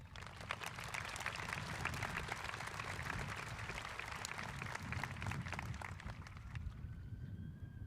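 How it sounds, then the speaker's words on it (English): A large crowd at a high school graduation ceremony gives a sustained round of applause, a dense, continuous wash of clapping heard from some distance that fades slightly toward the end. "Let's give a round of applause and a big thank you to our teachers and administrators."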